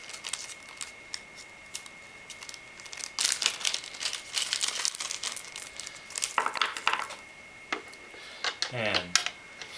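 Small metal screws are turned down to fix fans onto a Cooler Master Seidon 240 radiator, giving close clicking and ratcheting bursts with light rattles of hardware, no talk.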